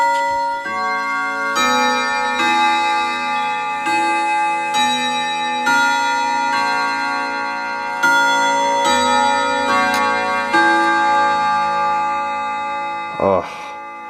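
A mechanical pendulum clock ticks steadily and close, its regular beats ringing under sustained metallic chime tones, with one louder clunk near the end.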